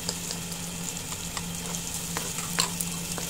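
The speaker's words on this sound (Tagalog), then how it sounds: "Igisa po natin ang luya, unahin po natin ang luya, isunod ang sibuyas." Ginger, onion and garlic sautéing in oil in a pan for a Bicol kinunot dish, giving a steady close sizzle with occasional stirring clicks and scrapes, no voices.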